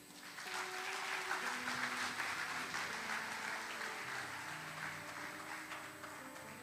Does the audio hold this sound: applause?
yes